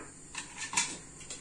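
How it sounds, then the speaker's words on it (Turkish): A few light metallic clinks and scrapes as a pressure cooker lid is handled and closed, quiet and close. "düdüklünün kapağını kapatacağım."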